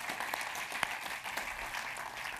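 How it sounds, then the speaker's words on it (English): An audience at the GothamGo 2018 Go programming conference applauds, a broad, steady wash of many hands clapping at moderate distance for a couple of seconds. "thanks for starting that round of applause"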